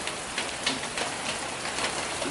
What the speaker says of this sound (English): But it's even nice when it's raining.